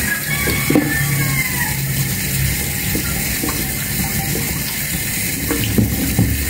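A kitchen sink tap runs steadily while moringa leaves are rinsed under it, giving a continuous close splashing rush with small clatters and no talking.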